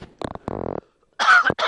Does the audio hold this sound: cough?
yes